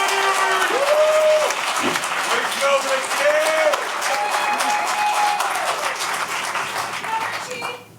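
An audience at an event breaks into loud, sustained applause that stays dense for several seconds and then tapers, with voices calling out and cheering over the clapping.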